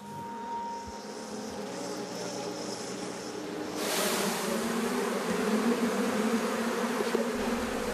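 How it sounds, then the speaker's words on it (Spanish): Honey bees buzz steadily around beekeepers at work, a dense close drone of many insects that grows louder and fuller halfway through, with faint low bumps and handling sounds beneath. "siempre trabajamos con las abejas"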